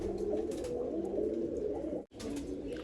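A pigeon coos in low, throaty repeated calls, close by, with a brief pause before the cooing resumes.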